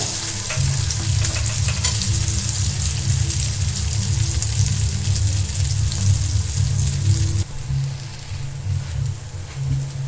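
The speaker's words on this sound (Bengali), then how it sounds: "এই ছোলার ডাল বাটাটা কিন্তু আমি তেলের মধ্যে দিয়ে দিলাম।" Ground chickpea lentil paste fries in hot oil for kochuri filling, a loud, steady, close sizzle that runs throughout and drops a little toward the end, with no talking.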